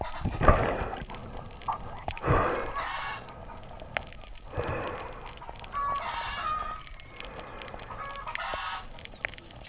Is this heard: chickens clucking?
yes